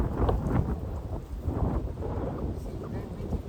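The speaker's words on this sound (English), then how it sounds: "it's very, very breezy, like very wind, kind of windy" Strong outdoor wind buffets the microphone in a garden, a steady low rumbling roar that swells and dips without pause and fills the whole stretch.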